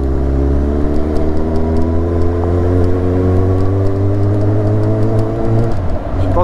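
A Suzuki GSX-R 750 sport motorcycle fitted with an Akrapovic exhaust runs loud and close, its engine droning and rising steadily in pitch as it revs through acceleration, with wind rush over the top.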